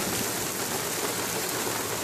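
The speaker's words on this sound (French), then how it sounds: "on dirait qu'il pleut" Heavy rain pours on an outdoor Disney mini golf course, making a dense, continuous hiss of water that fills the scene at an even loudness with no voices.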